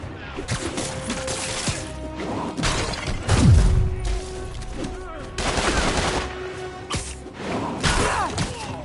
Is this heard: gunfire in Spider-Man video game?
yes